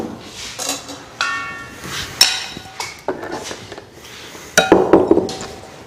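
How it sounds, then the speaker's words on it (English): Cheese is scraped out of a blender, giving a run of close, irregular clinks, knocks and scrapes against the jar, loud and sharp with short pauses between them. "we're going to scrape our cheese out of this blender"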